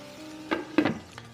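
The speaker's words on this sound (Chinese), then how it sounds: "好，我们可以盖一下锅盖" A lid is set onto a cooking pot of pork chops covered with water over high heat, giving a few light metallic clanks and a clatter over a faint background hiss.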